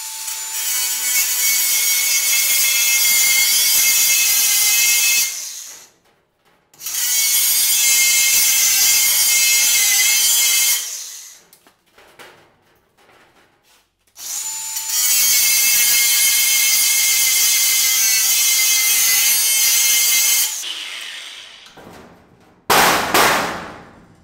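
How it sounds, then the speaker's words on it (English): A power tool grinds and shaves a weld off a metal door frame in long, loud, steady bursts of several seconds each, separated by short pauses and a few faint clanks, with no talking. "Shaving down that weld really slow and try not to eat very much into that door frame metal"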